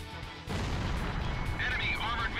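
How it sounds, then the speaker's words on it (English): In the Ace Combat Zero flight game, an enemy armored vehicle is destroyed by a loud, sudden blast that rolls into a sustained rumble, with a brief radio voice over the noise. "Enemy armored vehicle destroyed."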